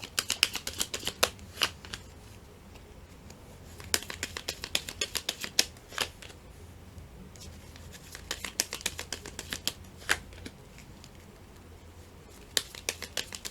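Tarot cards shuffled and drawn at close range, a steady run of crisp riffling and flicking bursts with short pauses between, no talking.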